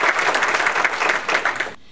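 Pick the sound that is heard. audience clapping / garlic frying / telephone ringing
audience clapping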